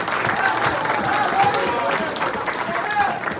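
At a high school football awards banquet, an audience claps steadily for several seconds, a sustained wash of many hands with faint voices mixed into the crowd noise.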